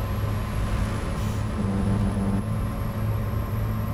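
A steady low vehicle rumble drones throughout with a faint high whine as cars roll past in American Truck Simulator; constant level, no distinct pass-bys, no voices.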